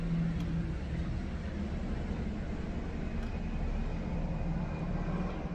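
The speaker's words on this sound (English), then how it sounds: "Another one of these military helicopters passing overhead." A military helicopter passes overhead, a steady low rotor-and-engine rumble droning continuously, even and unbroken.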